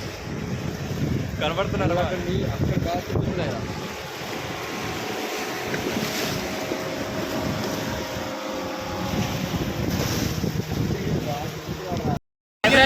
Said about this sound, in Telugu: అలలు మాత్రం మామూలుగా లేవు అసలు